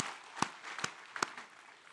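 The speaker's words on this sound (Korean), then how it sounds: "박수를 하나님께 드리겠습니다" Three faint, evenly spaced claps sound softly over a quiet room hiss during a Korean church worship service, sparse and distant rather than a full round of applause.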